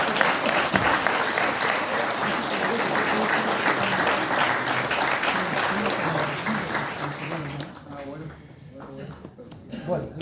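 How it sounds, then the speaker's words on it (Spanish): Strong audience applause fills most of the stretch, a dense sustained clapping with voices mixed in, then thins out and fades near the end as the crowd settles. "Fuerte el aplauso"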